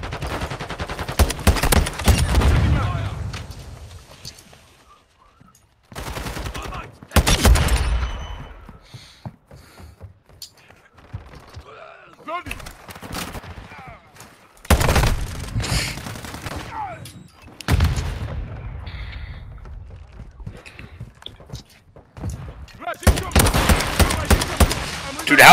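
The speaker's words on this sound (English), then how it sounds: "how is it supposed to be a marksman rifle, two shot from all ranges, and have the worst recoil in the game?" A marksman rifle fires in a video game, loud and close, in repeated rapid volleys of several shots each, separated by quieter stretches where someone talks.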